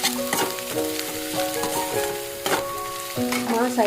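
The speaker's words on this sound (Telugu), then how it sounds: "ఇంకా అయితే ఉల్లిపాయలు వేగాలండి" Onions fry in a pan for a dried fish and raw mango curry, sizzling loudly and steadily up close, with stirring scrapes and clinks of a utensil against the pan throughout.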